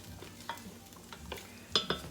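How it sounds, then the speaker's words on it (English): Melted butter for a roux in a pot crackles with a quiet, close sizzle, punctuated by a few short spoon taps and scrapes, the sharpest clink near the end. "So once the butter has melted, we're gonna do basically like what's called a roux or gravy."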